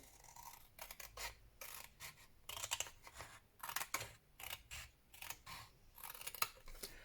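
Scissors cut paper for a handmade journal in a quiet room, a run of crisp, close snipping and slicing strokes in irregular bursts, each stroke a short rasping crunch.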